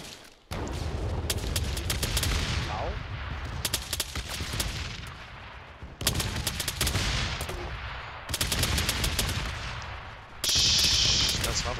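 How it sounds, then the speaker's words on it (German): Artillery in ArmA 3 pounds away in dense, roaring volleys of booming impacts and crackling fire, breaking off briefly and resuming several times, loud and close throughout. "War wohl die Artillerie."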